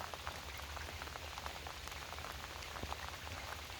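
Rain falling outdoors beside the Blackwater River during a pike fishing trip, a steady dense patter on surfaces throughout, close and even, with no talking.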